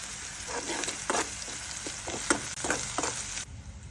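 Ginger garlic paste frying in a pan with onions for tomato masoor dal, a close, steady sizzle broken by several scraping stirs of a spoon before the hiss drops away near the end.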